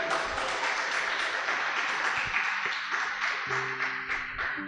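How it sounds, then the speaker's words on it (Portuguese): Church congregation applauding during a Portuguese-language sermon, a steady wash of clapping across the whole stretch with a faint sustained tone from instruments or organ underneath. "Dê um aplauso para o Senhor,"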